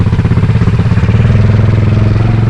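A GPX Moto FSE140 motorcycle runs in second gear while riding, its small single-cylinder engine thumping in a fast, even pulse, loud and close.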